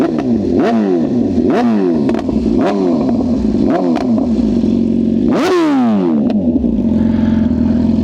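A 194-horsepower motorcycle with a loud aftermarket exhaust is revved hard and close by in a series of quick throttle blips, ending in one longer, higher rev that falls back to a rumbling idle.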